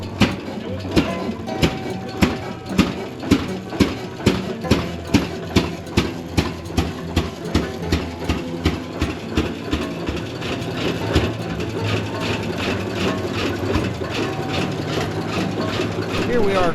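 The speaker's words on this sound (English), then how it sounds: "Here we have a successful start of an oil pull." A heavy single-cylinder engine of an antique Oil Pull tractor starts and chugs steadily with evenly spaced, loud pops under a low rumble, settling into a regular idling rhythm, with faint talk in the background.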